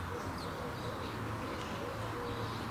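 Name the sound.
birds cooing by artificial lake in Tirana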